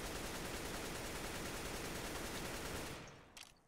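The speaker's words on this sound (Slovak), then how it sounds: "Teraz vám ukážem, ako sa strieľa s patternom." Continuous automatic gunfire sprayed in a first-person shooter video game, a loud, dense stream of rapid shots lasting about three seconds before cutting off into a brief tail of faint clicks.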